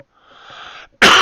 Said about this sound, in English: Sorry, didn't mean to cough in everyone's ear.